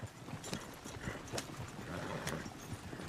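Horse hooves clip-clop steadily on the ground in Red Dead Redemption 2, with a short whinny mixed into the busy in-game ambience.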